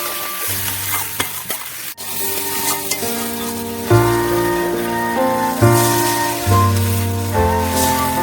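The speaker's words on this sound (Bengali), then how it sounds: "কষাবা এখন মশলা দিয়ে এবার কষাবে" Spices sauté in hot oil with turmeric, chili powder and ginger-garlic paste, sizzling loudly and continuously up close, with bursts of spatula stirring and scraping; no one talks.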